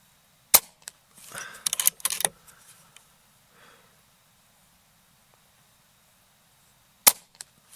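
An Air Arms S510XS air rifle firing JSB Hades pellets at a range gives a sharp crack near the start, another near the end, with a brief clattering rustle of handling between and quiet gaps.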